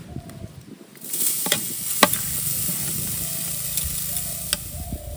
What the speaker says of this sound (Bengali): তো কড়াইতে কুড়ানো নারকেল দিয়ে দিচ্ছি।